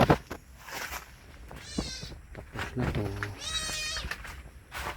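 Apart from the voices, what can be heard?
small kitten meowing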